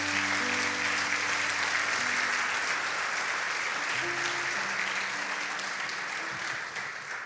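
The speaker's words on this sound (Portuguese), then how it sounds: "Você pode dar uma salva de palmas a Jesus por isso?" A church congregation applauds for Jesus during a sermon, a steady, dense wash of clapping that carries on for several seconds at an even level with faint sustained tones beneath it.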